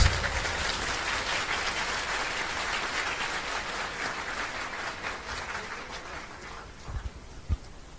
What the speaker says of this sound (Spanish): Pues un aplauso para todos